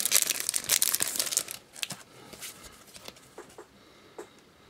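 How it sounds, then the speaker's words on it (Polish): Close, crisp crinkling and rustling as a foil sachet of Champions League football trading cards is cut open, loud at first and then thinning to a few scattered crackles. "zrobię mu przyjemność i znowu obetnę saszetkę"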